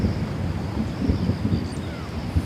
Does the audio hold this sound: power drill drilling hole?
no